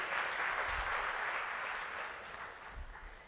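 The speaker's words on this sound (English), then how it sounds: "let's clap for that" Audience at a talk on narcissistic products applauding steadily for about three seconds, a full room of clapping that fades slightly toward the end.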